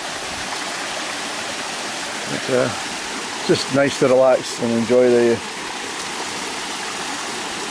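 A mountain stream torrent at Loch Turret rushes steadily throughout as a broadband wash, with a person talking briefly over it in the middle.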